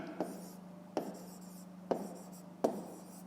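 Pen writing out a fifth-grade math exercise solution on paper, with four sharp tapping strokes spaced about a second apart over a steady low hum, close and faint, no voices.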